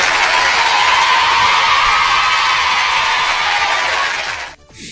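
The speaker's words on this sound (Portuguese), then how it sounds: "Aplausos, auditor!" A loud studio audience on a Brazilian TV show claps and cheers in a thick, sustained burst that cuts off abruptly near the end.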